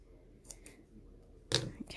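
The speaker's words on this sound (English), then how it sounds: "Need to find my scissors." Scissors handled during a papercraft card-making session with foam tape and twine, giving a few quiet, brief clicks and snips spaced apart, with a louder rustling clatter near the end.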